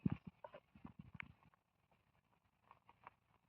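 Hooves of bullocks clop in quick, uneven steps on a hard surface, faint and brief, trailing off into near quiet with a few scattered later footfalls.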